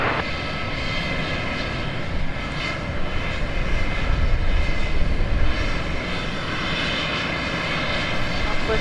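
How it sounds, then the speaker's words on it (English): Business jet taxiing past at Dallas Love Field, a loud, steady engine roar that swells as it passes close by and then eases slightly, with airport radio chatter underneath. "Nice little biz jet passing in front of us"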